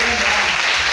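A church congregation applauding Jesus during Sunday worship, with dense, loud, continuous clapping from many hands filling the room and voices mixed in.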